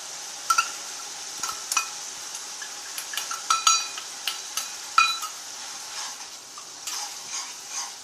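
Potatoes with chili powder being stirred in a hot pan, a spatula scraping and clinking against the metal in irregular strokes over a steady sizzle, close and alone with no talk.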